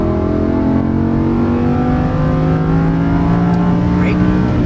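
A Lamborghini Huracan LP610-4 accelerates hard on a track. The engine note climbs in steady, loud, close rising pitch, and an instructor's voice talks over it.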